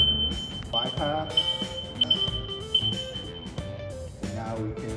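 A loading dock restraint in fault mode, failing to catch the ICC bar, sounds a steady high-pitched electronic alarm tone that runs continuously under someone talking and clanking equipment.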